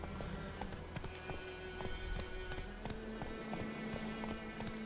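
Horse hooves in the video game Witcher 3 beat a steady clip-clop while the mount trots along, with a continuous ambient bed and faint tonal game sounds underneath.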